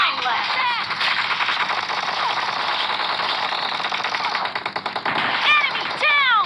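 Rapid bursts of gunfire from a PUBG Mobile team deathmatch with shotguns, dense repeated shots under game voice lines and player chatter.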